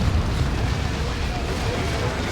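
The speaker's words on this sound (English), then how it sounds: "That was a Demolisher Cannon shot." A Demolisher Cannon shot in the strategy game Warhammer 40,000: Dawn of War 2 makes a loud, sustained rumbling blast that fills the whole clip with dense broadband roar.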